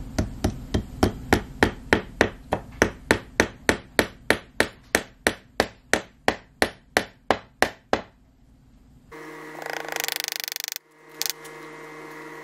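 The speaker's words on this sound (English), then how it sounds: "I'm going to fold that down and then nail right up in there." A hammer drives nails into upholstery fabric folded over an armchair wing, about two dozen sharp, evenly spaced blows in a steady rhythm, close and loud, then a pause and a rougher rustling scrape.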